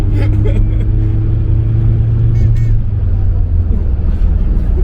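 Rotary engine of a Mazda RX-7 FC revving loudly and steadily, a strong sustained drone heard close up throughout, with voices talking over it.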